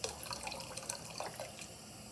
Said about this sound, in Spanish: Un chorro de vinagre